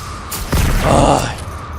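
A boom from an explosion in the multiplayer shooter Generation Zero, a broad low thud swelling for about a second over a busy game soundscape.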